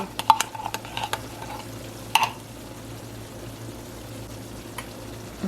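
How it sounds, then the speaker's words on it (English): A spoon stirs spaghetti sauce in a pot, giving a few light scrapes and clinks over a steady low sizzle and simmer, close by with no talking. "Stir it up."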